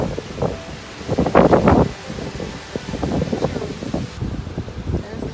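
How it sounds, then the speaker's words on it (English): Gusty wind buffets and rumbles across the Tower of London grounds, with a louder rush of rustling partway through before settling into a steady blustery hiss. "It's very windy today."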